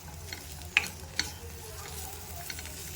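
Grated fresh coconut and chili powder fry in a pan for tindora curry, giving a soft continuous sizzle with a couple of light scraping stirs, fairly quiet and with no talk.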